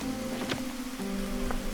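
Steady rain falls in the world of the video game Against the Storm, a constant soft patter with faint tonal game sounds layered over it.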